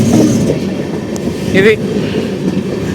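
The new Amrit Bharat Express rumbles along the rails in Kerala near Karunagappally, a loud steady roll of wheels with a brief squeal, heard from on board as a voice speaks briefly.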